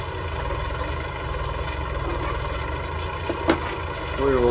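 A Super 4 tractor engine runs steadily while drilling winter wheat in a field in November 1965, a continuous low mid-pitched drone with a brief knock near the end.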